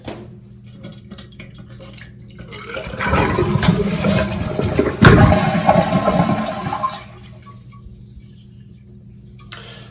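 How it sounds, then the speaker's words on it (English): A household toilet flushes nearby while its handle is being replaced: a loud rushing swirl builds over a few seconds, peaks with a gurgle, then drains away into quiet, with no talking. "So I'm going to turn the water off and flush the toilet here just so I don't get a whole bunch of messes."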